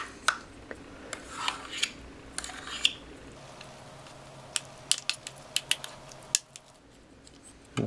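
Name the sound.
spoon mixing rice into MRE stew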